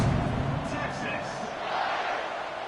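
A college football stadium crowd just before kickoff, a dense, steady roar of many voices filling the whole stretch with a slight swell near the end.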